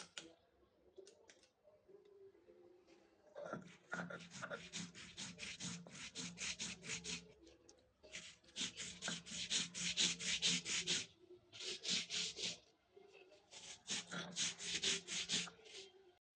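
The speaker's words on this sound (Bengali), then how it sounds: "সরিষা ইলিশ রান্নার জন্য আমি সরিষা বেটে নিচ্ছি।" Mustard seeds are ground by hand on a grinding stone, rhythmic bursts of gritty stone-on-stone rubbing with short pauses between strokes, close and fairly quiet.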